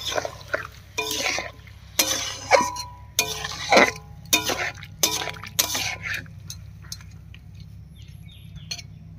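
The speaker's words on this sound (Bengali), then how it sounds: "এবার এর মধ্যে সামান্য একটু জল দেব।" A little water poured into a pan of cooking taro stolons for a vegetarian kochur loti dish, with bursts of sizzling and spattering liquid, clinks of a utensil against the pan, and close kitchen clatter.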